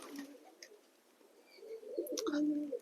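Racer and Giribaz pigeons coo softly at a distance, a few low throaty calls rising toward the end over a quiet outdoor background.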